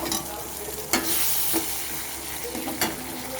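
Soya chilli sauce with vinegar, soy sauce and a little water being stirred in a hot pan, a bubbling sizzle with a few sharp spoon scrapes, close and steady.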